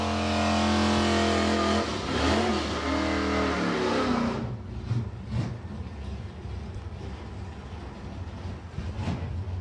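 Drag racing cars at Santa Pod roar loudly as they accelerate off the line, a sustained engine blast that fades after about four seconds into quieter, intermittent engine noise and revving.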